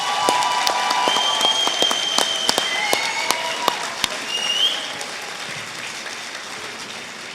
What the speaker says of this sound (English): show your appreciation with a round of applause for them